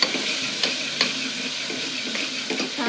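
Garlic and chili paste sizzles in hot oil as it is sautéed for dal, a steady frying hiss with a few soft stirring clicks and scrapes close by, no voices.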